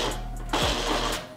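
A blender whirs steadily, loud and close, while processing ingredients for an octopus dish with crispy potatoes. Its motor tone shifts and strains partway through.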